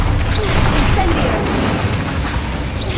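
An Incendio fire spell goes off in Hogwarts Legacy amid dense battle noise, with a fiery burst and a crashing boom over a constant loud, rumbling background.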